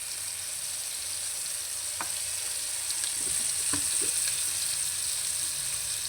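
Leftovers sauté in a hot pan with oyster sauce and a splash of soy sauce, giving a steady bright sizzle throughout with a few soft clicks of stirring, and no talking.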